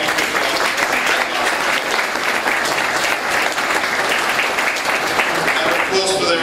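An audience breaks into sustained loud applause at a Strong Angel III presentation, honouring the American Red Cross. The dense clapping is close and continuous throughout, with faint talk at the end.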